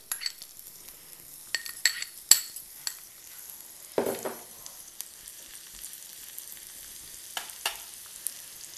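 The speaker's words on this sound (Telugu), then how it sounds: "ఆనియన్స్ ఫ్రై చేసేస్తున్నాను" Chopped onions frying in a pan for a pizza topping base, a faint low sizzle punctuated by scattered clinks and scrapes of a utensil against the pan, with quiet stretches between.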